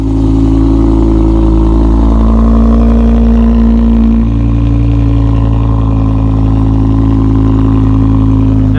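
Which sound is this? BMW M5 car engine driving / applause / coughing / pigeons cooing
BMW M5 car engine driving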